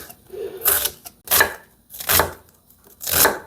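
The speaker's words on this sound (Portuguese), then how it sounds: "Eu sempre gosto de cortar a cebola, sabe?" Knife chopping onion into a fine brunoise on a cutting board, four crisp, evenly spaced clusters of cuts about a second apart, close and fairly loud.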